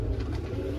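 Teddy Rampuri fancy pigeons coo in a low, steady, throaty murmur that fills the whole brief moment, close by and with no voices over it.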